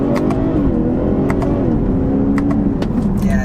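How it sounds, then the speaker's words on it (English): A 2020 BMW 540i xDrive with its 8-speed automatic revs hard through manually triggered shifts, its loud engine note rising and dropping in pitch at each change, with quick sharp clicks over the sustained drone. "let's try some manual shifts here"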